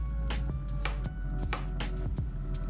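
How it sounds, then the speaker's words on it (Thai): Pickled cucumber is chopped on a cutting board with a knife, giving about half a dozen crisp, evenly spaced knife taps close up over a low steady background hum. "ระหว่างนี้เราก็จะมาหั่นแตงกวาดองนะคะ"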